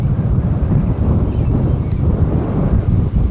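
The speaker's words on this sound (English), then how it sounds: "It's a windy day." Steady wind roars continuously at a trackside spot on a windy day, a loud, unbroken rumble buffeting the microphone with no talk.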